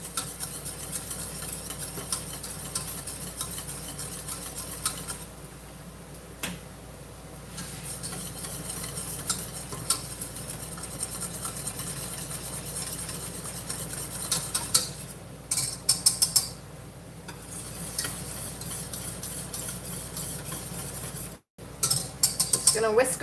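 Whisk scraping and clinking steadily in a pot as cinnamon roll sauce is beaten with a thickener, a continuous rapid metallic stirring with short pauses and a few louder rattles.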